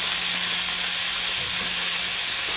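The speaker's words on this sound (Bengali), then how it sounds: "সমস্ত সবজিগুলোকে একটু ফ্রাই করে নেব" Cabbage, radish and other vegetables frying in hot mustard oil for a winter vegetable khichuri, a steady broad sizzle and hiss with faint low stirring, no talk.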